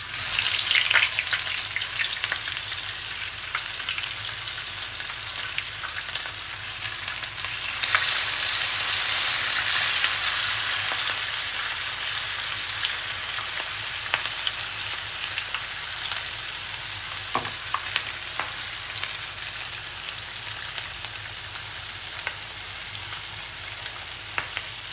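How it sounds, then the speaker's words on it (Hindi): Mutton chops sizzle and fry steadily in hot oil, a dense, continuous crackle with no voices, swelling slightly louder partway through. "फिर हम इसमें हमारा ऑयल गर्म हो गया। बिस्मिल्लाहिर्रहमानिर्रहीम करके हम डालते हैं।"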